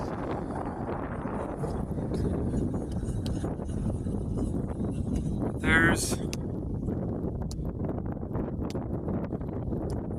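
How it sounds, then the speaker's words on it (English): Steady gusting wind buffets the microphone near a SpaceX rocket site, a dense low rumble running throughout, with a brief voice speaking over it. "It's pretty windy."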